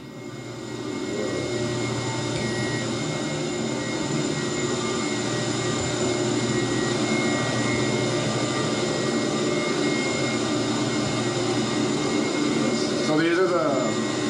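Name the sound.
wastewater plant aeration blowers running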